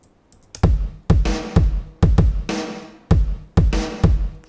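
A kick drum and snares from a big Logic Pro drum kit play a steady pop groove, booming low kicks alternating with bright, crisp snare hits, loud and close after a few faint ticks at the start.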